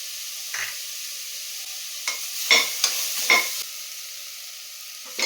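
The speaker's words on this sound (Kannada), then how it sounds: "ನಂತರ ಇದಕ್ಕೆ ಟೊಮೊಟೊನ ಹಾಕೊಂಡು ಫ್ರೈ ಮಾಡ್ಕೊಳ್ತೀನಿ ರುಬ್ಬಿಟ್ಕೊಂಡಿರೋಂಥ ಮಸಾಲೆನ ಹಾಕ್ಕೊತಾ ಇದ್ದೀನಿ" Ground masala with vegetables and tomato fries in a pan for a millet pulao, making a steady close sizzle with a few louder scraping stirs partway through.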